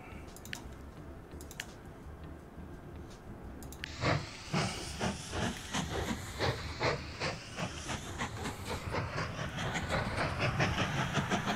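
A steam train in the railway video game Mashinky hisses and chuffs in rapid rhythmic bursts with clickety-clack, starting after a few faint clicks and building into a loud, steady run.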